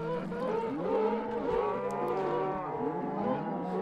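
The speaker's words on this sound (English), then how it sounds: "So let's go ahead and throw some cows in there." Cows moo in the Minecraft video game as they are dropped into a lava blade farm, several drawn-out low lowing calls overlapping one another, fairly clear with faint background noise.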